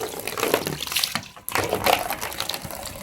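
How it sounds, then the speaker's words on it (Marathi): Dishes are scrubbed and rinsed under a running tap, with gushing water, splashing and brief clinks of utensils, close by, with a short break midway. "झाले 5 मिनिटात भांडे धुवून झाले"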